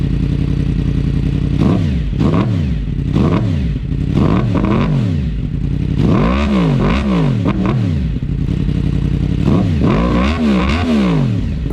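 A 2016 Yamaha R1S sport motorcycle, engine and exhaust revving at a standstill: repeated sharp throttle blips rise and fall through the clip, loud and close, with the idle rumbling steadily in between.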